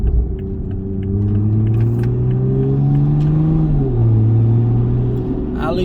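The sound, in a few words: MK5 Toyota Supra big turbo accelerating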